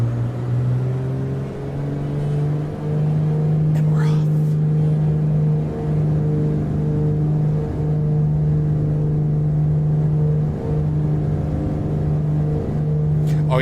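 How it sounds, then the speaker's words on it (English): A steady high engine whistle from a Beechcraft Duke B60 in Microsoft Flight Simulator holds over a low droning hum, with a faint swooping tone partway through and brief background noises. "Listen to that whistle."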